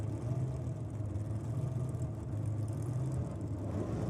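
A small-capacity clutch drag racing car idles at a nitro drag racing meet, its engine a steady, low, continuous rumble held close and loud for several seconds with no talking.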